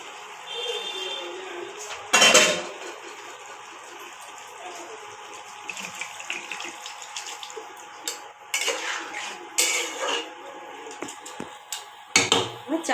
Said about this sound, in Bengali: এবার বন্ধুরা জল দিয়ে দেবো সেদ্ধর জন্য।